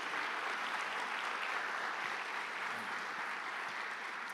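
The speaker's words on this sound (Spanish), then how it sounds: "Dele un fuerte aplauso al Señor Jesús." Church congregation applauding in unison during a Spanish-language worship service, a steady wash of clapping that holds at an even level from start to finish with no voices over it.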